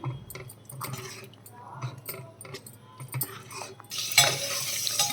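A spoon stirs pesarapappu gongura dal in a cooking pot, with soft intermittent scraping and clinks against the metal under a quiet kitchen hum, followed near the end by a brief louder sizzle.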